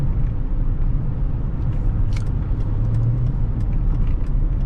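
A 2005 Chrysler 300C with the 5.7L Hemi V8 heard from inside while driving, a steady low engine rumble and road drone with smooth throttle and faint interior clicks.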